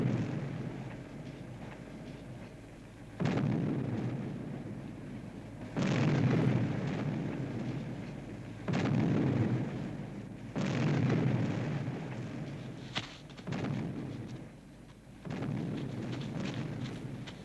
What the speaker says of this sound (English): That's a battery of artillery.